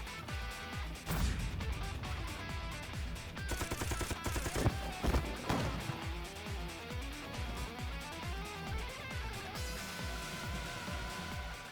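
Gunfire in the game AI: The Somnium Files: rapid bursts of shots and sharp crashing impacts over a musical score, fairly quiet and steady.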